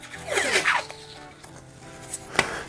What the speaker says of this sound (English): So what I do is I just grab some masking tape and I throw it on there